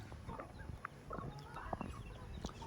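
Young hens and cockerels cluck and chirp on a farm, a dense overlapping flock of short calls and squawks close by, with scattered louder peeps throughout and no talking.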